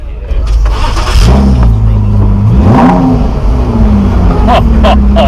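A Ford GT sports car engine at Le Mans fires up close by and revs hard, its deep roar rising and falling through several throttle blips.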